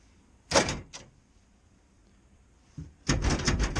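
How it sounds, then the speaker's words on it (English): An electric key-fob lock on a toolbox drawer actuates with a short mechanical burst, a quick second click, then after a pause a longer whirring actuator sound, nearby and fairly loud. "Drawer is locked."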